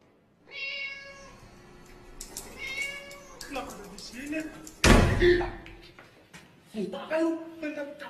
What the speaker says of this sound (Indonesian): kucing gue, kucing yang dibawa tadi